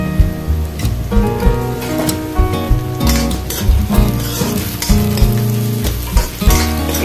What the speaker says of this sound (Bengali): এবার এটাকে আমি ভালো করে একটু ফ্রাই করব।